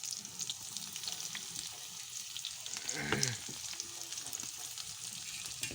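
Steady sizzling of food frying in hot oil, with a brief stirring scrape partway through; no talking.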